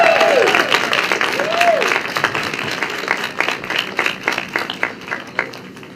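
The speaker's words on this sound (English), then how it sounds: "please join me in a very, very welcoming round of applause for my friend now" A crowd welcoming Jay Shafer to the stage at a tiny house talk with sustained applause, dense at first and thinning into scattered individual claps over six seconds, with a brief whistle-like tone early on.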